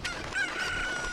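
Chickens clucking and crowing in a video game, a short burst of fowl calls with a thin whistling tone, fairly loud and close with no talk.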